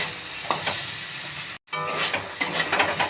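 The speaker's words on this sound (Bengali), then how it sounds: "চিনিটা দিয়ে ভাজাটা ভালো করে নাড়াচাড়া করে নেব" Finely chopped potato and pointed gourd fry in a pan with a little sugar, a close, steady sizzle broken by scraping stirs and a brief silent gap midway, with no talk.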